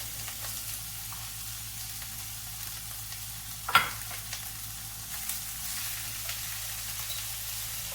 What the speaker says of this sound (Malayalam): പടവലങ്ങ ചേർത്തിട്ട് നന്നായിട്ട് വഴറ്റിയെടുക്കാം.